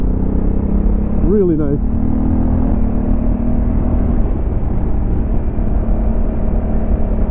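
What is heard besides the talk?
Honda CRF1100L Africa Twin motorcycle riding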